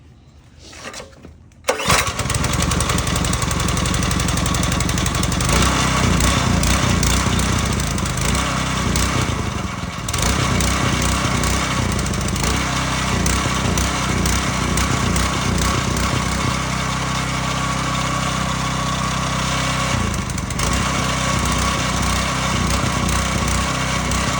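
A Simpson 3400 PSI pressure washer's small gasoline engine, freshly carburetor-cleaned, is pulled over and catches after a brief start, then runs loud and steady near the listener, with one short dip in the middle and no talking.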